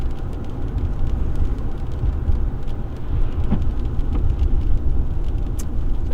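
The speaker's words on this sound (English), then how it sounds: "We're starting to get hit with some rain here." Rain drums steadily on a storm-chasing car driving through a Saskatchewan storm, a continuous loud wash of road and engine rumble with faint rumbles of thunder mixed in and no talking.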